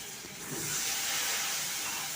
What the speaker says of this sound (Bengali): সামান্য একটু গরম জল দিয়েছি